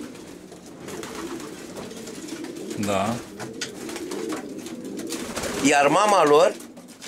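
Racing pigeons at a breeder's loft coo in two warbling bursts, a short one and then a longer, louder one, while someone talks nearby in Romanian.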